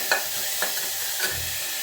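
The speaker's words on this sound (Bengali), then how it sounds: "এই যে পেঁয়াজ টমেটো দিয়ে দিলাম। এবার ভালো করে এটাকে ভাজতে হবে।" Onion and tomato fry in a small pressure cooker with a continuous close sizzle, punctuated by a few light scrapes and taps of stirring.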